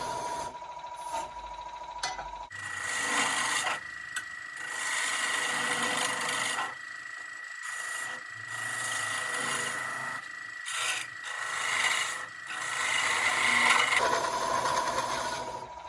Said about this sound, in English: using skew chisel, I polish over.